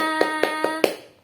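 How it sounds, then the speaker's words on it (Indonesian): Four crisp, evenly spaced claps ring out close to the microphone over a steady background tone, the last one slightly louder, in an online lesson for young children. "tepuk tangan semua"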